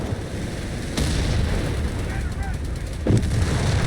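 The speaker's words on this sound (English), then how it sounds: "And there you go, Whiz-Bang Barrage and all these cluster of units right at Login's base" Whiz-Bang rocket barrage artillery in the Company of Heroes 3 video game, heard as dense booming blasts and rumbling fire under constant battle noise, with a sharper crack near the start and another heavy hit later.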